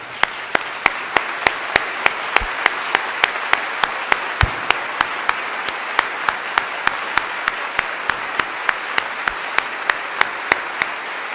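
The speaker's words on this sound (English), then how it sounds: "applaud in recognition of her achievement" At a university graduation ceremony, sharp single claps ring out one after another in an even, steady rhythm of about three per second for over ten seconds.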